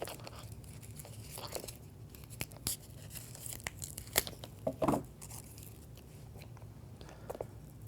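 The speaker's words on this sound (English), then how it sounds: "you have to remove it from the plastic and be careful when also cutting off this cover" Plastic packaging is torn away and a cover is cut from a FoxFury Taker B30 ballistic shield, giving close, faint crinkles, snips and scattered sharp clicks in a quiet room.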